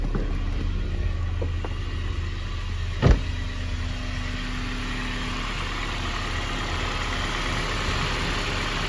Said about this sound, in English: Motor sounds real healthy.